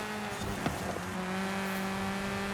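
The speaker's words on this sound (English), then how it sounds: "Love those sounds on the downshifts." A car engine in Forza Horizon 5 blips and drops through the gears on downshifts, giving a steady droning tone with a short sharp burst near the start. It is close and fairly loud.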